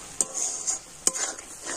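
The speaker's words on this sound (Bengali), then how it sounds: "তো এইভাবে কন্টিনিউ নাড়তে হবে, তাতে করে দুধটা না কড়াতে লেগে পুড়ে যায়" A spoon scrapes and stirs thickening milk in a pan, giving two sharp scraping strokes over a soft, continuous simmering hiss, close and fairly quiet.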